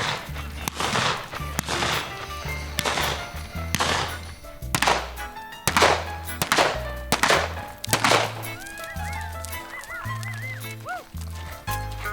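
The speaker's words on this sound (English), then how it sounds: "First, we're going to start with a little riding and shooting showcase." Sharp gunshots ring out one after another during a riding and shooting showcase at a dude ranch, loud outdoor cracks spaced a second or so apart with hard thuds between them.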